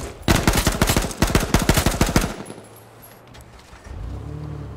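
Assault rifle fired in the H1Z1 video game: a loud, rapid burst of about twenty evenly spaced shots for roughly two seconds, then a quieter low rumble afterward.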